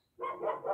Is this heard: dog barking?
yes